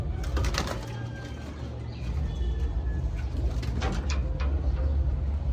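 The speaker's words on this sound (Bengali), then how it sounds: "আর আরেকটা পায়রা দেখাচ্ছি" A domestic pigeon at a Punjabi Malwai and Madrasi pigeon sale coos in low, soft murmurs beneath steady broadband background noise and scattered clicks, with no talking.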